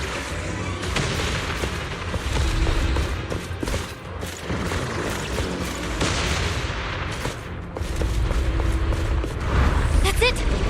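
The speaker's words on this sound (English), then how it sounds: "The cocoon is sending out blasts at intervals. When they explode, get to the nearest cover immediately." Repeated heavy blasts from an exploding cocoon in the video game Zenless Zone Zero, booming at intervals over a dense rumbling game soundscape, with a voice talking alongside.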